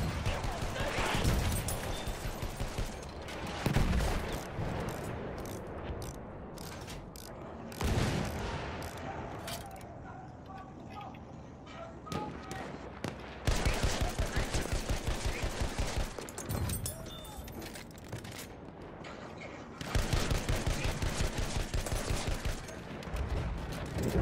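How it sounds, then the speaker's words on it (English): Machine gun fire in Battlefield 1, loud and sustained in long automatic bursts with a few pauses between strings of rapid shots, mixed with other battlefield gunfire and occasional voices. "Machine gun!"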